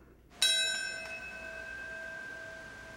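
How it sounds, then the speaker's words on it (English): A bell tolls at the Ground Zero 9/11 memorial in New York City: one clear struck tone with a long, ringing decay and a faint second stroke, heard alone against a quiet background. "At Ground Zero in New York City, bells mark when the planes hit the Twin Towers and when the towers fell."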